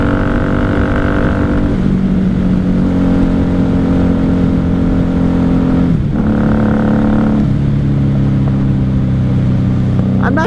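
A 1994 Honda Magna 750 VF750C motorcycle engine drones loudly and steadily while riding, its pitch shifting with throttle changes and gear shifts around the middle.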